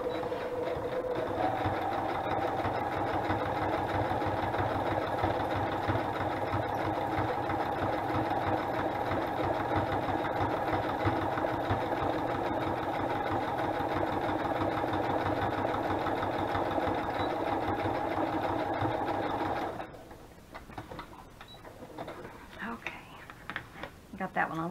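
A sewing machine stitches through a paper belly band with tags, whirring steadily and up close for about twenty seconds before stopping abruptly, followed by faint handling noises.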